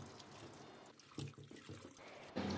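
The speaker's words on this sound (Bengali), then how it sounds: "এবার ডালটাকে ভালো করে 2-3 বার জল দিয়ে ধুয়ে নিতে হবে।" Soaked chana dal being washed in water, a faint splashing and trickling with soft swishes and one louder slosh near the end, with no talking.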